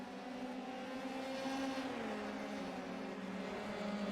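Race cars running side by side in a German Grand Prix round produce a steady, droning engine whine with several overlapping pitches that slide down and back, continuous and moderately loud.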